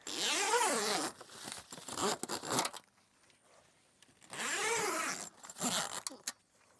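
A zipper on a thick van bug net in a 2023 Ram Promaster high-top runs in two long, close pulls with short tugs after each, separated by a quiet pause.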